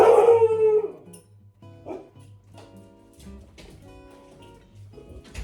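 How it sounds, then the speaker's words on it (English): Dogs howl loudly and close by as someone arrives home, a strong drawn-out howl at first that fades into softer, lingering howls and whines. "the dogs are obviously the best doorbell in the world"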